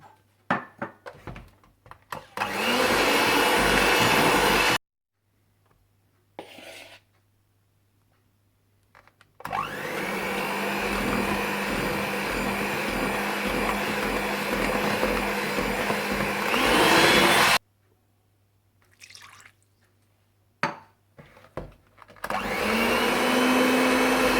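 Electric hand mixer beating lemon cupcake batter, a loud steady whirring drone in three long bursts separated by quiet pauses with small clinks and handling noises.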